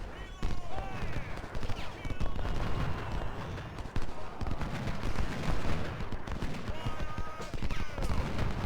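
Gunfire in the Ultimate General: Civil War game during a Siege of Jackson battle, dense crackling volleys and irregular musket shots rattling continuously, with someone talking over the shooting.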